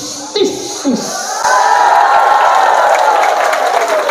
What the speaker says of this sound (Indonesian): ketika saya nyebut begini, ibu-ibu nggak usah disuruh tepuk tangan